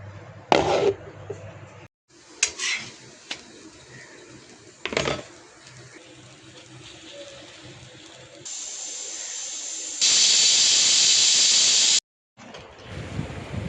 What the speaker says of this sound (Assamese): মটৰখিনি প্ৰেছাৰ কুকাৰত চিটি মাৰি দিম